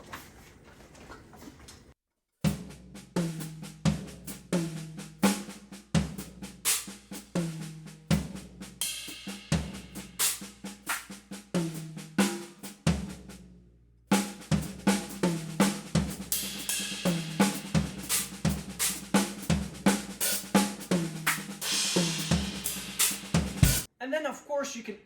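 Drum kit fill played by moving the right hand around the toms and snare, a steady run of sharp hits with low tom thuds, repeating in phrases separated by brief pauses, close and fairly loud.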